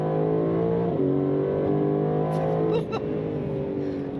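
A 2026 Aston Martin DB12 S accelerating hard, its engine note rising steadily through the rev range with a brief shift dip, heard from inside the cabin as a strong, sustained drone.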